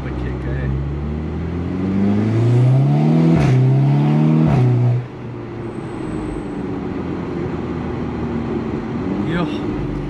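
A VW Golf 6R Stage 2+ launches and accelerates hard. The engine note climbs in pitch for a few seconds, then drops off abruptly, leaving fainter road and wind noise.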